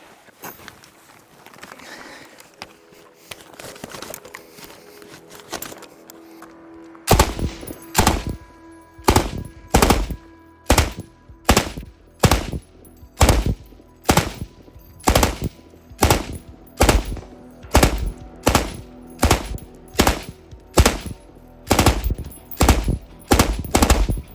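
A quiet stretch gives way to loud, sharp gunshots from an FN Minimi machine gun, fired standing, repeating in a steady rhythm. The blasts come in rapid succession and stay close and forceful.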